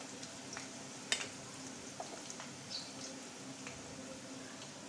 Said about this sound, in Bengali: পেঁয়াজ মরিচটা একটু ভেজে নিচ্ছি, পুরোটা লাল করব না